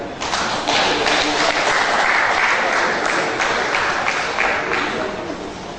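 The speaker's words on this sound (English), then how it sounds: "A round of applause for today" A lecture audience gives full, steady applause for about six seconds, loud and continuous throughout.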